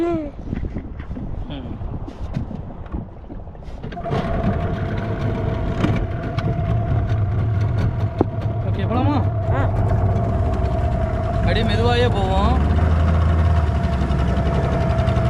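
A boat's engine drones steadily at sea beneath a voice, with low engine rumble continuing throughout and occasional splashes or knocks.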